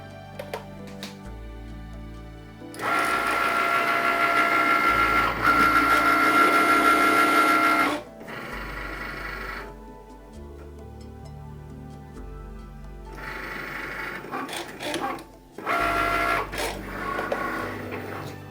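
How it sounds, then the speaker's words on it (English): A Cricut cutting machine runs a cut through leather for a keychain, its motor whirring steadily in two loud stretches separated by pauses, with quieter mechanical movement between them and no talking. "you hit the C button, the Cricut here, for it to do another cut"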